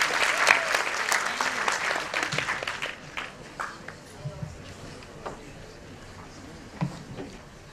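Audience applause welcoming a student speaker at an innovators' conclave, loud dense clapping at first that thins out over several seconds into scattered claps and murmurs.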